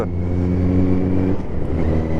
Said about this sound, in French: qui fait un bordel avec sa ER5.